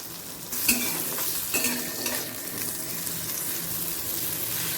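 Raw tamarind cooking with a pinch of salt in a pan over a low gas flame, a steady soft sizzle with a few faint stirring scrapes, close and continuous.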